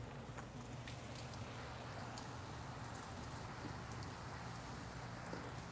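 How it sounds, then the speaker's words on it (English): Steady rain falling on a rainy day in Central California, a faint continuous hiss with scattered soft drop ticks and no voices. "It's a rainy day in Central California"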